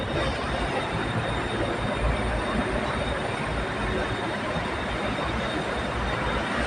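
Steady, loud rumbling of a BTS Skytrain Silom Line train moving along a station platform in Bangkok, with continuous wheel and motor roar and no voices.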